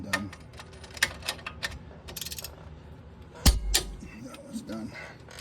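A torque wrench tightens hub nuts on a 2017 Ford F250 during a front bearing hub replacement, giving a few sharp ratcheting clicks and one loud metallic snap, heard close amid faint shop noise.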